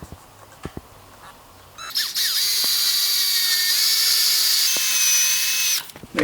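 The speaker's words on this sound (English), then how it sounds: "I'm just going to drill slowly into my cavity" A power drill whines steadily as it bores into a guitar body's wood for several seconds, loud and high-pitched, after a few quiet taps and clicks.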